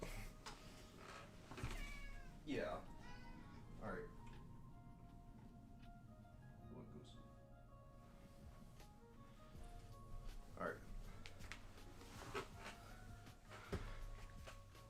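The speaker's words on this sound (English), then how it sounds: "my cat is playing with this string that's on my wall" A pet cat meows several times in short, rising calls while batting at a string hanging on a wall indoors, close and fairly soft, with faint ticking in the background.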